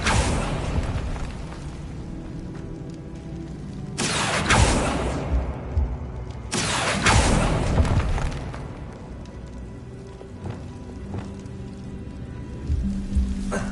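Blasting-spell explosions in the Hogwarts Legacy video game: two loud broadband bursts with rumbling tails, about three seconds apart, over a steady textured background of game ambience.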